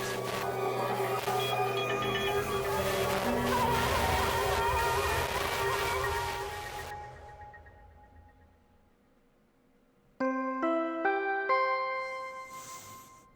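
In the video game Danganronpa V3, a body discovery announcement chime rings out after a fading stretch of music and quiet: a short sequence of clear, bell-like descending tones, loud and alone.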